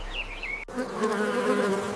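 A close, steady insect buzz of bees hovering around orange blossoms, droning continuously with slight shifts in pitch.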